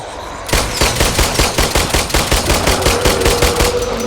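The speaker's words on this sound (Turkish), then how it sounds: "vallahi vurdum. Kolundaki yaralardan vurdum." Rapid automatic gunfire aimed at a zombie in The Brookhaven VR game, a loud steady burst of evenly spaced shots starting after a half-second lull and running to the end.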